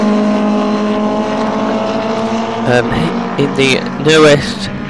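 Rear-engined historic Formula Junior race cars in the 2012 HSCC and FJHRA championship race at Snetterton, a sustained, buzzing engine drone with passing surges, under continuous commentator talk.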